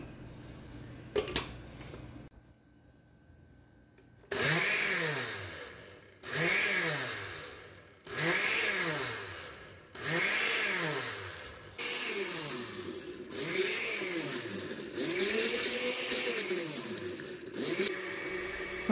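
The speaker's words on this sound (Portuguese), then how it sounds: "vou colocar metade aqui e eu faço no liquidificador" A blender whipping cream whirs in repeated bursts, its motor pitch rising and falling with each pulse, then runs longer near the end; fairly quiet and close.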